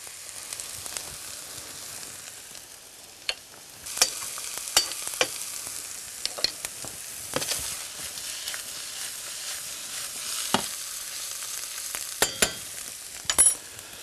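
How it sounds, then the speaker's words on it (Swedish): Chanterelles and shallots frying in butter in a pan, a steady soft sizzle with occasional sharper crackles and stirring clicks, close and fairly quiet. "Kantarellerna har fått lite färg och då lägger jag i schalottenlöken och en liten klick smör till och så steker vi med den en stund."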